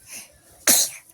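A single sharp human sneeze bursts out loud and close, a sudden broadband blast after a brief quiet stretch of room tone, then trails off.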